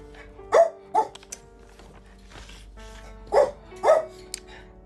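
A dog barks twice, pauses, then barks twice more, each bark short and sharp and fairly close in an otherwise quiet room.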